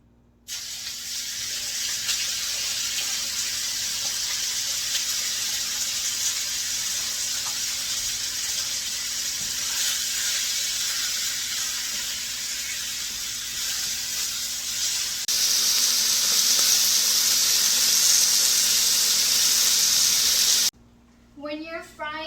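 Chicken sizzles loudly in hot oil in a wok for chicken fried rice, a steady broad hiss that swells midway and cuts off abruptly near the end, with a voice in the background.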